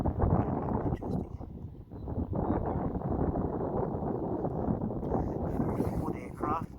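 Strong wind buffeting a sailboat on the Intracoastal Waterway, a rough, constant rumble over choppy water, with a voice speaking through it.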